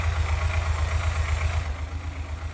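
A vehicle engine in the building game Gear Blocks idles smoothly and steadily, a low rumbling hum with an even pulse that carries on without break, close and fairly loud, with no voices over it.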